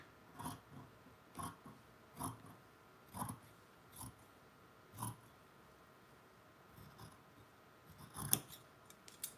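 Scissors snip through the fabric of a red dress during an alteration, about ten crisp close cuts at a loose, uneven pace, with quiet gaps between them.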